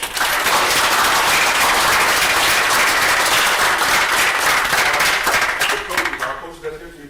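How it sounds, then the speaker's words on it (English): Dense, loud applause from an audience at a city council meeting, sustained clapping that fades out over the last second. "Let's give our parents a round of applause"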